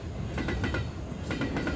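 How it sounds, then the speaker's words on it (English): A high-speed train rushes past in a video game, a steady loud roar with rhythmic clattering wheel bursts, heard alone without talk. "It's the sound of a high-speed train going by."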